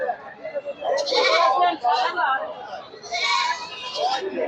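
Goats bleat loudly at an outdoor goat market in Bangladesh, several close, wavering calls overlapping in two bursts, with crowd voices and children faintly in the background.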